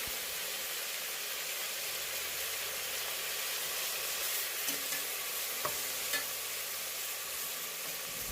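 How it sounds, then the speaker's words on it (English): Oxtail pieces sear in a hot pot for Jamaican-style oxtails, giving a steady, close sizzling hiss with a few soft stirring knocks and no talking. "we're gonna give our oxtail a nice, beautiful, quick sear"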